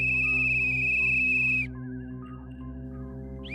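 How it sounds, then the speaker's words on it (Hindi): A loud, shrill brass whistle holds one piercing note for about a second and a half, then drops to a softer, wavering tone. "मेज पर रखी वही पीतल की सीटी अपने आप बज उठी।"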